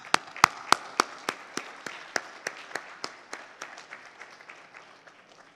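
Audience applauding at a book release during an inaugural inclusive finance summit, sharp claps in a steady, thinning rhythm that fade gradually over several seconds, moderately loud and without talk.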